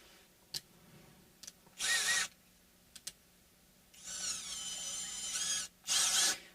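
A regular countersink bit cuts into an existing hole in the bridge of a Luna Henna Oasis guitar, in three loud bursts of drilling, the middle one longest and steadiest, separated by quiet gaps with a few faint clicks.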